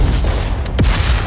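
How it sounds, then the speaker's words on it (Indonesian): A single loud explosion effect bursts out of a rumbling low background, a sharp blast with a falling boom tail, preceded by a brief softer thud just before it. "Kemudian ledakan keras sekali lagi terjadi."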